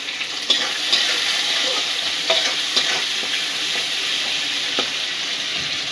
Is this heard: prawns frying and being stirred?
yes